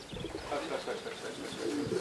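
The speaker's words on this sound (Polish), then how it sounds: "O, i następny. I też tu ląduje u Andrzeja." Racing pigeons arrive at a loft in Ślesin, Poland, with soft, close cooing and fluttering over steady outdoor background noise.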